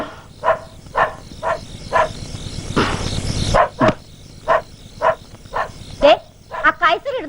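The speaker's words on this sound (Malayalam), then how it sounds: "കുരയ്ക്കുന്നുണ്ട്. ആരാന്ന് നോക്കിയേ." A dog barks in a steady, regular series of short, sharp barks about every half second, briefly masked midway by a rush of noise, with a voice joining near the end.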